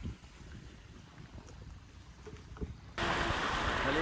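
Low rumbling water and wind noise, then an abrupt loud wash of ocean surf that fills the sound and keeps roaring to the end, at Atanacia Beach Park in Pandan, Alaminos, Pangasinan.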